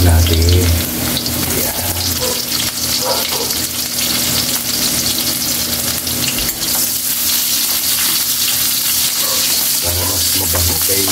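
Garlic and onions sizzle and fry steadily in a pan for adobo sa gata with hito, a continuous close crackle with occasional stirring, and a brief voice heard once.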